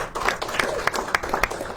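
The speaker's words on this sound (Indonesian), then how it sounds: "Tepuk tangan untuk Mbak Isti ya." Talk show audience giving a short round of applause, a quick cluster of close hand claps with faint chatter underneath.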